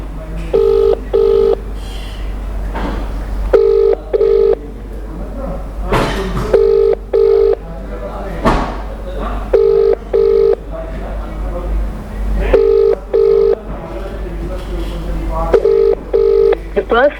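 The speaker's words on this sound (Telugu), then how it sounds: "రింగ్ అవుతుంది." Telephone tones on an outgoing call sound as paired beeps recurring at regular intervals, with someone speaking over and between them against a steady low hum.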